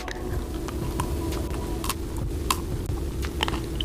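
Someone bites into a chocolate-coated Biscoff ice cream bar, producing crunchy, crackling bites close to the mic over a low background hum.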